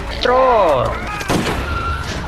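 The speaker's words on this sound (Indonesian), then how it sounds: "Dengan satu tembakan dari Tommy menyelamatkan Gary." A single gunshot in a zombie action film, rising out of a dense mix of voices and effects.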